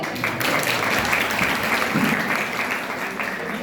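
A studio audience at a quiz show claps loudly in steady, dense applause without a break.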